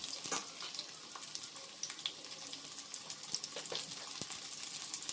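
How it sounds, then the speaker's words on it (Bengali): Diced potatoes with a little salt and turmeric frying in a pan, a continuous close crackling sizzle with scattered pops and light stirring throughout. "এবার আলু দিয়ে দেওয়ার পর একটু সামান্য নুন হলুদ দিয়ে আলুটা ভেজে নেব"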